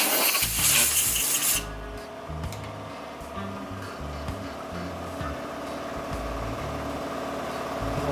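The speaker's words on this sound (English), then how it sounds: "Sorry about the compressor running. It'll stop shortly." An air compressor runs steadily in a workshop where synthetic shaving brushes are made, a constant mechanical drone with a loud hissing burst at the start and low clunking tones over it.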